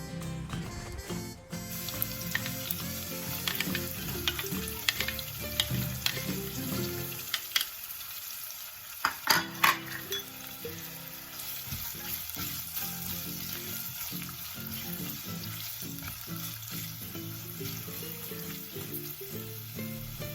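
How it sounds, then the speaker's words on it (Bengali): Chopped onion and garlic fry in hot oil in a pot, a steady close sizzle running throughout with occasional stirring scrapes and a short quieter dip midway. "পেঁয়াজ আর রসুনটা একটু নরম হওয়া পর্যন্ত ভেজে নিচ্ছি।"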